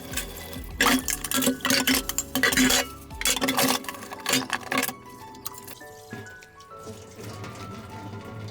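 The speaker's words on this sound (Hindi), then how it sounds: "अब यहाँ पे मैं बर्तन क्लीनिंग करने आ जाती हूँ, मतलब बर्तन की साफ़ सफाई अच्छे से करती हूँ।" Dishes and black gas-stove burners are scrubbed and rinsed at a sink, with clattering pots, clinking utensils and splashing water in irregular bursts, then a quieter stretch of trickling and light knocks.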